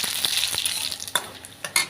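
Garlic and radhuni seeds sizzle in hot oil, a steady close crackle broken by a few sharp spatters and scrapes near the end, with no voices.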